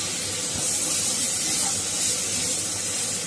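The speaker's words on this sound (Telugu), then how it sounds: "అల్లం వెల్లుల్లి పేస్ట్ పచ్చివాసన పోయేంత వరకు వేయించుకుంటూ ఉండాలి" Ginger garlic paste fries in a pan for samosa filling, giving a loud, steady sizzle and hiss that runs unbroken the whole time.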